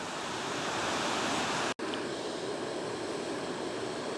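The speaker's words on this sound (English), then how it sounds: "The roaring waterfall of Eidsbugarden" A roaring waterfall at Eidsbugarden in Norway's Jotunheimen National Park gives a constant broadband rush of falling water, steady and enveloping, broken only by a split-second dropout.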